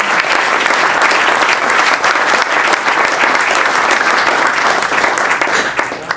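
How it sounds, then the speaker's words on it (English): An audience at a scholarship gathering breaks into loud, sustained applause, a thick wash of many hands clapping that holds steady for several seconds before easing at the end. "I'd like anyone who's helped create an endowed scholarship to raise their hand for a round of"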